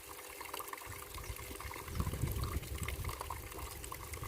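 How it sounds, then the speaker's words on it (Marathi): A two-inch stream of water gushes from an old borewell, a soft continuous splashing flow that thickens midway and stays steady, fairly faint with no talking. "तर या पाण्याच्या धारेला आपण तुम्ही पाहू शकता दोन ते अडीच इंची या बोरवेलला पाणी आहे"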